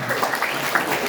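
Audience clapping at a primary school gathering in Kutoarjo, a steady patter of hands from a group, moderately loud with no voices over it.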